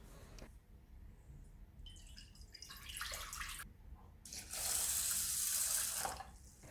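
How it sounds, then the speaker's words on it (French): Rice is rinsed in water and drained: soft swishing and running water rise to a steady pouring rush near the end, faint and close, with no talking. "Je le fais une première fois de manière grossière, je vide l'eau très rapidement parce que le riz absorbe très vite l'eau."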